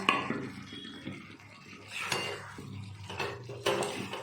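Potatoes being added to chicken and sautéed in a pan: close metallic clanks and scrapes of a utensil against cookware, coming in a few separate bursts with quieter gaps between.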